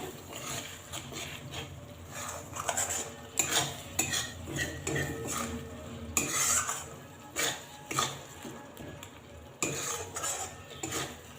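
A utensil scrapes and clinks against a pan as turmeric, salt and grated coconut are stirred together, in irregular strokes that come in bursts with short pauses, near and fairly loud, with no talking.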